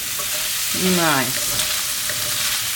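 Italian sausage frying in a pan without oil while being stirred, a steady close hiss and sizzle with a brief word spoken partway through.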